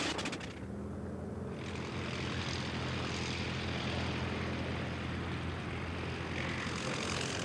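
Curtiss 60-horsepower Pusher, an early 1909 propeller aircraft built for the Gordon Bennett Trophy race at the Reims air show, droning steadily with a rough, continuous engine and propeller roar that holds loud and unbroken throughout.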